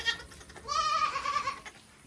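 Goats on a homestead bleat in a long, wavering, nasal call at close range, with a short cry before it and quiet outdoor air around.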